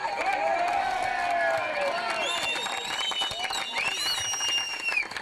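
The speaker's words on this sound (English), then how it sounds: "a round of applause for Pat Sheehan" A crowd at the 2011 Rathkeale v Glin Limerick junior A football final gives a round of applause and cheers for Pat Sheehan, with loud sustained clapping, whoops and whistles, and shouting voices rising over it.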